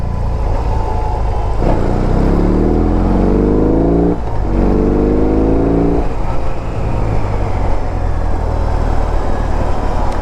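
A BMW R18 motorcycle's big engine drones loudly while being ridden, with two rising revs through the gears and shifts between them, then a steady cruising hum under rushing wind, no talking.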